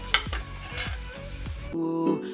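Fried potatoes tipped into a pan of sautéing onions, a few soft thumps and shuffling stir sounds over a light sizzle, ending in a brief tonal hum.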